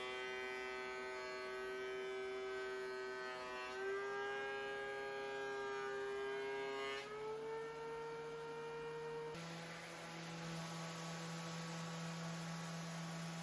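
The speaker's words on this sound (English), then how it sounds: "I pass over it really quickly with the sander here" A power sander runs over a wooden circle cutting jig for making round cutting boards, giving a steady, close, loud motor whine whose pitch steps up slightly a few times.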